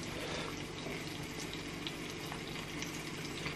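Flounder fillets sizzle in a hot pan, giving a dense, steady hiss and crackle that fills the whole clip without pause, fairly close and loud with no talking.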